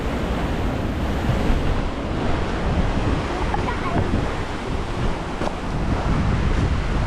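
Sea waves and strong wind at the old Thalassery sea pier in Kannur, a loud, continuous roar of surf with heavy wind buffeting the microphone throughout.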